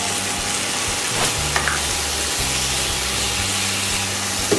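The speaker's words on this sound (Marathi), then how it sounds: "आणि यात वरतून सोया सॉस घालतोय." Soy sauce is poured onto paneer fried rice in a hot pan, and a loud, close, continuous hiss of sizzling follows, steady throughout.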